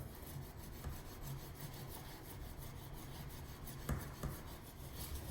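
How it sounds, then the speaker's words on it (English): Paper being burnished onto an inked linocut block while printing a multiplate linocut: a close, steady scratchy rubbing that runs continuously, with a couple of sharper scrapes near the end and no talking. "I'm going to carefully lay it down where it doesn't move, and I'm going to burnish it down"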